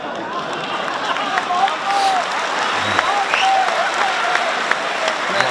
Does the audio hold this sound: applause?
yes